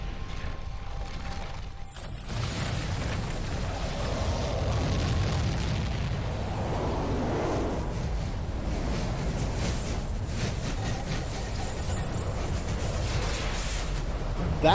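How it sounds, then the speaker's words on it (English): A huge energy explosion in the video game Chrono Cross, a sustained roaring, rumbling blast with crackling texture that persists loudly for many seconds. "That's one hell of an energy explosion."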